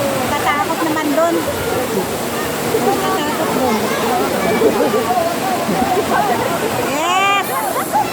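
A fresh river rushes and gurgles in a steady, loud wash close by, with a voice speaking over the flowing water.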